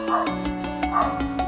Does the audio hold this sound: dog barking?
yes